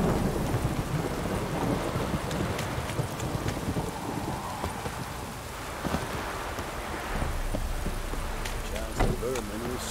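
Heavy rain pours steadily in The Witcher 3 video game, with rumbling thunder and occasional hoofbeats, a constant loud downpour throughout while voices speak over it.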